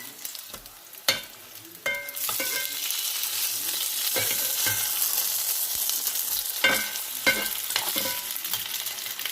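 Dab fillets frying in a hot pan: a loud, continuous sizzle that swells after a couple of seconds, punctuated by sharp clinks and scrapes as the fillets are turned, close-up with no speech.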